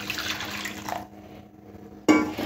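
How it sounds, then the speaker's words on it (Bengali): Warm water is poured into a pot of mung dal in two bursts: a steady splashing pour for about a second, a short quiet pause, then a louder second pour. "এই ডালের মধ্যে জলটা দিয়ে দেব"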